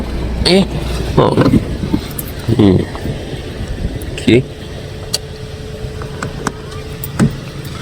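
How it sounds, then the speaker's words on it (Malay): A rare old car's engine idles smoothly and quietly, a low steady hum running beneath a person talking in short bursts, with a few faint clicks. "Enjin dia smooth tau, walaupun lama tak start ni kereta dia."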